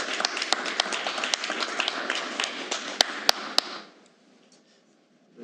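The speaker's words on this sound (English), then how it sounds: "I will ask City Council to please show our thanks and appreciation for Madison." Applause from the audience at a July city council meeting in Laurens, dense clapping that fills the room for about four seconds with a few sharp louder claps near the end before it stops abruptly, leaving near silence.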